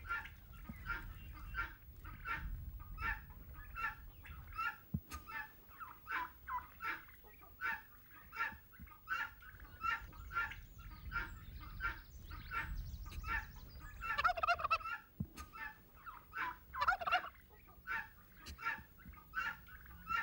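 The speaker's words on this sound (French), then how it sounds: "Le dindon mène cette sorte de carnaval, appelé parade, pour séduire les femelles de son troupeau." A domestic turkey on a farm gobbles again and again during its courtship strut, loud rattling calls repeating in quick bursts over about twenty seconds, with a low rumbling background beneath and no voices.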